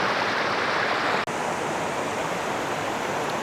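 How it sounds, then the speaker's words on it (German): A waterfall in the Harz mountains pours in a dense, constant roar, close and loud, with a momentary dropout near the start. "Ein weiterer toller Wasserfall"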